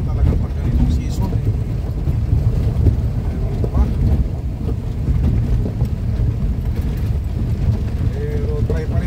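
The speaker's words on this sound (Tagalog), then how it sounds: "May hangin na mga kabsat. Kulot na yung tubig ito." Wind over choppy water out at sea, heard from a small boat while hunting tiksay fish: constant loud rumbling wind buffeting the microphone with splashing chop, and faint talk underneath.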